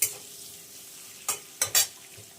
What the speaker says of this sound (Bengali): ক্যাপসিকামগুলো খুব বেশি ভাজার দরকার নেই, হালকা একটু ভাজা হয়ে এলেই